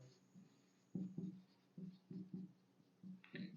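Chalk or marker writes an equation on a classroom board in short scratchy strokes, several quick bursts in an irregular rhythm, close and fairly faint against a quiet room.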